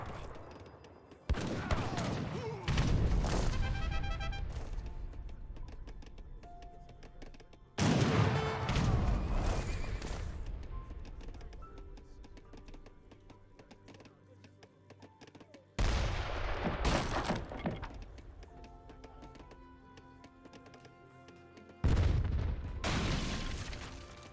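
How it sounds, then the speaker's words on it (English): Volleys of musket fire from militiamen in an Age of Empires 3 battle, four loud bursts of crackling shots with booming impacts, each decaying into scattered distant gunfire. "We got the militiamen firing away"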